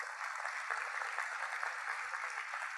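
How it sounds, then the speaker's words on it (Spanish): Audience applause for Grupo Flores at a corporate social responsibility award ceremony, an even, continuous wash of clapping that sounds somewhat distant and muffled. "Un aplauso para Grupo Flores."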